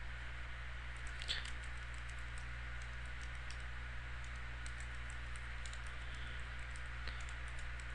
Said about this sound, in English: we will begin the process by typing the following